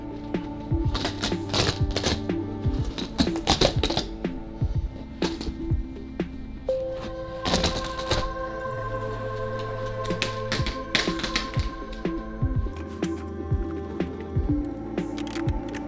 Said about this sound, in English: Once all the baseboards were removed, it was time to pull up the carpet and padding